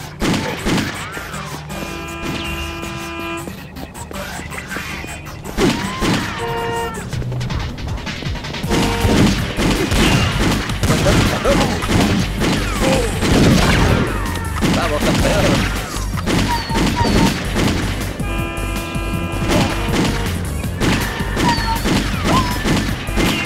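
Sniper fire and chaotic crashes in the Torrente PC game, sharp shots and smashing impacts scattered among game music and jingles, with a voice speaking at times.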